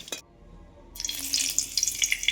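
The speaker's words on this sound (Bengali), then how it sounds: "এদিকে আলুগুলো ভেজে নিচ্ছি" Potatoes fry in a pan with a sharp sizzle that rises after a brief hush, crackling bursts spitting close and fairly loud over a faint background clatter.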